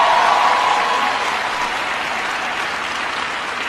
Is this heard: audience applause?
yes